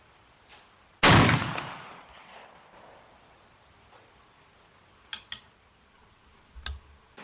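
A single loud, close rifle shot from an Argentine Rolling Block firing a swaged 43 Spanish cartridge, with a sharp report and reverberant decay, followed by faint mechanical clicks of the action being worked.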